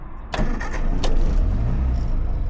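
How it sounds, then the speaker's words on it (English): A car engine starts up: a short clicking crank, then the motor catches and settles into a loud, steady idle close by with no one talking. "Let's see if the car will start."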